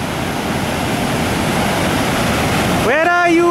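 Iguazu Falls roaring at the Devil's Throat on the Argentine side, a loud, steady wall of rushing water; near the end a voice rises over the roar.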